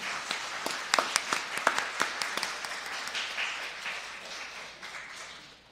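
A church congregation gives a round of applause: irregular claps at first, building into a moderate, slightly distant patter that fades away over a few seconds.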